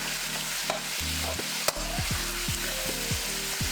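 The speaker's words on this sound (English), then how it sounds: "drop that moist meat into that wok and let's get it sizzling" Beef strips sizzling in hot oil in a wok, a steady loud frying hiss with repeated scraping stir strokes and a sharp clink partway through, no talking.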